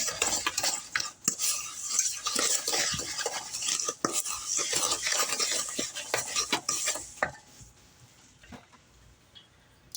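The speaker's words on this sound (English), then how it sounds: "Stir that up." A spoon stirring a mixture in a bowl in a home kitchen while baking, rapid scraping and clinking strokes in a busy rhythm, close and fairly loud, tapering off near the end.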